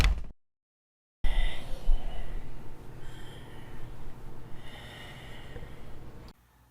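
A film monster's heavy, snorting breaths, performed by a person's own voice, come after a short gap of silence as rough, close rasping inhales and exhales.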